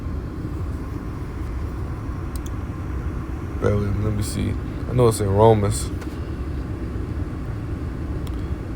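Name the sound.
car background noise, speaker sitting in car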